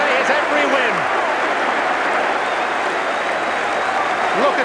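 Football crowd at Highbury applauding a Bergkamp goal for Arsenal against Barnsley, a broad, steady wash of clapping and cheering that stays loud throughout, with a commentator's voice over the top.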